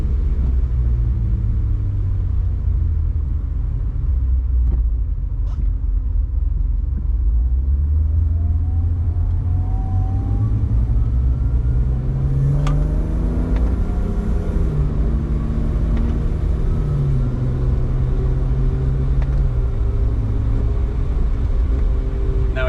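A BMW 135i with the N54 engine and an 8HP45 automatic gearbox downshifts by itself while driving, a steady engine and road rumble with rising and falling engine pitch as the gears change.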